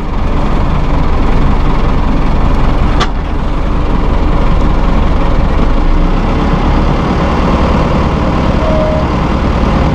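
A 2001 New Holland TL100 utility tractor's engine runs at a steady, loud, low rumble from up close, with no break in the drone.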